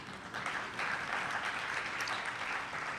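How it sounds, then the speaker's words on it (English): An audience at an anniversary gala applauds in a steady, moderately distant wash of clapping lasting a few seconds, with no voice over it. "So somebody should applaud that."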